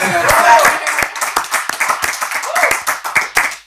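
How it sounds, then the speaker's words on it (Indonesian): An audience claps for a guest during an Indonesian talk show, a close burst of brisk, uneven hand claps that thins out, with a voice speaking over it. "Tepuk tangan buat Kopral Ucup."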